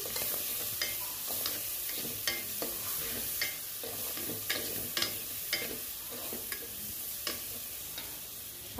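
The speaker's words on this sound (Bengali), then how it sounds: "একটু ভেজে নিচ্ছি।" Garlic paste frying with prawns in a hot pan, a steady sizzle broken by repeated scraping strokes of a stirring spoon, close up with no voices.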